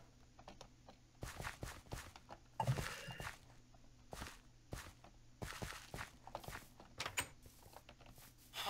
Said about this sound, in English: Keep hearing footsteps there from the villagers and it freaks me out.